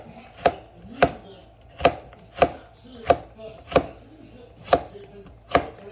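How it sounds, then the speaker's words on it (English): A knife chopping carrots into small pieces on a board, eight crisp, evenly spaced chops at a steady, unhurried rhythm, close and clear with no talking. "especially when you have to chop them up so small like we're doing here"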